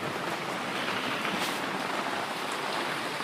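Heavy rain pours steadily on a canvas tent during a summer off-grid stay, a dense, unbroken hiss of drumming drops with no talking.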